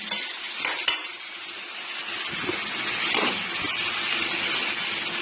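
Fish, rice, lentils and soybean chunks fry with turmeric and spices in a pan, giving a steady, close sizzle with scraping stirs and a few sharper bursts.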